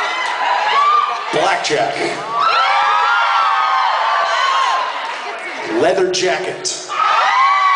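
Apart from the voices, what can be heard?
concert audience cheering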